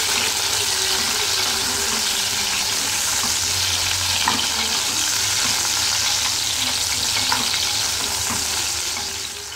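Brinjal frying in oil over a slow flame, a dense, even hiss of bubbling oil holding steady with faint intermittent crackles, close and continuous without speech.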